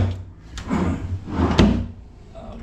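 A vanity dresser drawer in a room under construction slides and knocks shut, with two solid wooden thuds about a second apart and a scraping slide between them, close and fairly loud.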